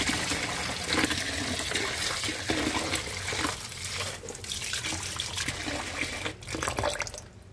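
Rice is rinsed under running tap water: a steady, close wash of flowing water with brief dips and surges, continuous throughout with no voices.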